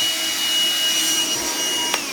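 Central vacuum system running steadily, a loud constant whine and rushing airflow with high tonal hum, close and uninterrupted throughout, no talking.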